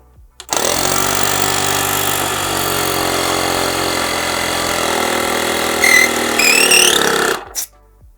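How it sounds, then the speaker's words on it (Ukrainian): A YATO YT-73470 portable car air compressor switches on and runs with a loud, steady buzzing motor drone, a brief whistle near the end before it cuts off. "давайте увімкнемо і послухаємо, як буде працювати компресор"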